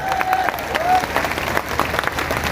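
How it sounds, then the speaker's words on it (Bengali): An audience at a public speech gathering claps for a guest, a dense burst of applause with scattered individual claps, fairly close, mixed with some background voices. "ওনার জন্য একটা হাততালি আমি আশা করি"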